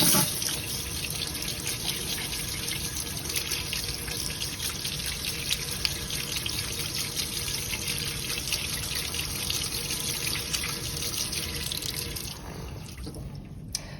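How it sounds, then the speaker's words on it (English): Running tap water blasts steadily over fermented tomato seeds in a strainer, a continuous loud rushing spray that holds for about twelve seconds before easing off near the end. "I'm going to pour the rest into the strainer and then kind of blast them to make sure we're getting all of the fermented tomato bits off"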